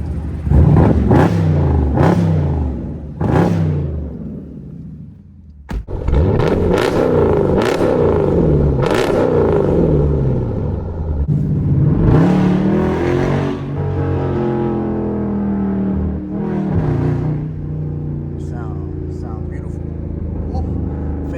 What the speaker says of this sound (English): Can we get a rev low key real quick?